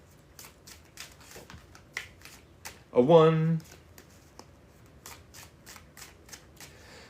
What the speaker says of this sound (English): 3 more shuffles, y'all.